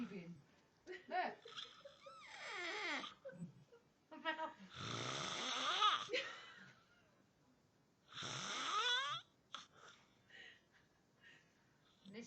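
A man snores loudly in long, rasping breaths, each with a harsh rattling inhale, separated by quieter pauses. Other people talk softly in the background.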